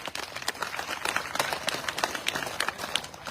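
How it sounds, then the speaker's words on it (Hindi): A crowd claps at a political rally of a Jat community gathering, a short burst of quick, uneven, overlapping hand claps at moderate distance, busy and scattered rather than in unison. "जोर से ताली बजाओ भाई।"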